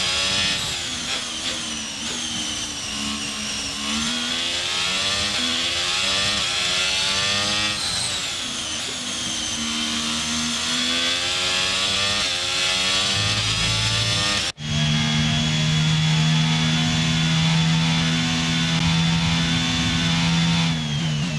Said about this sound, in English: Just listening to our engine note, you can tell that we are not revving very high.